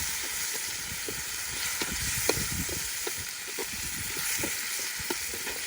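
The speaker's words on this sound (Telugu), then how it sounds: "వీటన్నిటిని బాగా పచ్చివాసన పోయేంత వరకు వేయించుకోవాలి" Green chilies with turmeric and rock salt frying in a pan, a steady dense sizzle with scattered stirring knocks and scrapes throughout, close and continuous with no talk.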